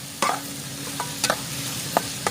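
Mutton keema curry being stirred in a pan over gentle sizzling, with four or five sharp spoon scrapes and clacks spaced across a couple of seconds.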